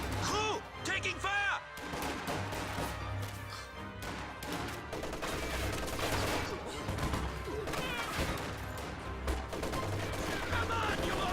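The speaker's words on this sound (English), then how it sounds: "Contact! Small arms fire!" Small arms fire in a war video game, rapid cracking shots and bursts layered over a dense battle din, loud and continuous, with shouted voices mixed in.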